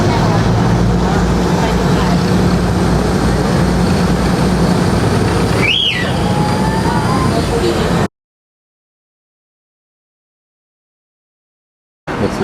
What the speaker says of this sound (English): It's the Sathorn or Tucson canal boat here